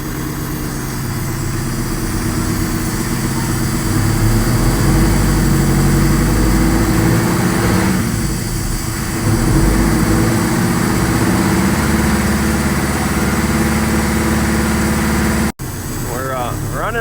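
A Detroit 8V92 diesel engine, revived after 20 years of sitting, runs rough on only four cylinders, a loud close steady rumble with a brief dip and a sharp cut near the end, with voices faintly under it.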